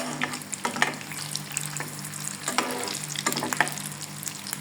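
Meat pakoras crackle and sizzle in hot oil while deep-frying, with a busy continuous bubbling hiss and occasional scraping knocks from a utensil in the pan.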